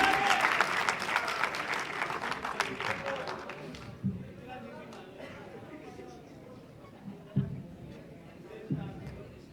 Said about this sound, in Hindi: का जोरदार तालियां हो जाए इकबाल साहब के लिए।